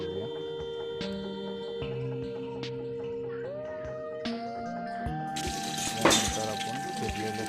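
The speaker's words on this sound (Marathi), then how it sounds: "कढीपत्ता घालून टाकून घेऊया." Curry leaves dropped into hot oil for upma crackle and sizzle, the frying building into a louder burst of spitting toward the end over a steady tonal background.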